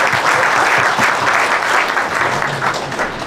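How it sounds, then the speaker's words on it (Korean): A church congregation gives welcoming applause to a newly ordained missionary pastor, a steady, close wash of many hands clapping throughout, with faint murmuring underneath. "한번 환영의 박수 한번 해주겠습니다"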